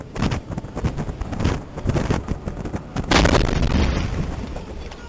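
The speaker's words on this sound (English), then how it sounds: "A rocket-propelled grenade screamed through the air and slammed into the front of the convoy, detonating in a deafening fireball." Close, loud explosive bursts and rolling blasts from a rocket-propelled grenade detonation and gunfire in street combat, with wind buffeting the microphone throughout.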